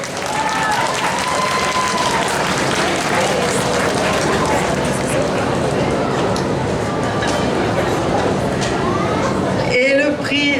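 A crowd at a cosplay contest award ceremony applauds a winner, loud continuous clapping and cheering mixed with chatter and voices, ending with a brief whistle-like tone.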